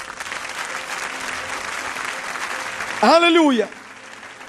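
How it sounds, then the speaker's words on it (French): A church congregation bursts into applause and cheers for a few seconds after a pastor's call, while a voice sings out a drawn-out exclamation over the clapping. "Est-ce qu'on peut acclamer notre sœur?"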